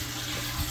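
Steady rushing water pours from the fish tank drain of an aquaponics Dutch bucket system, loud and continuous for a brief moment.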